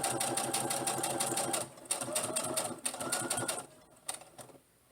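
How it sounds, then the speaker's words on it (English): A sewing machine stitches a facing onto the front of a tunic top, running in loud bursts separated by short pauses as it sews alongside pins. "I have that all lined up right down the center, and I'm just sewing alongside of the pins"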